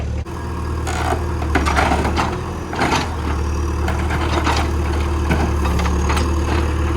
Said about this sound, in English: We're taking the tin off the side of this barn with the backhoe